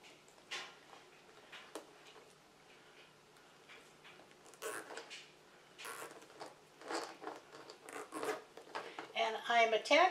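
A 4-inch plastic zip tie is ratcheted tight around a wreath wire on a poly burlap poinsettia Christmas wreath, a series of quiet close clicking zips and rustles, growing busier and louder toward the end.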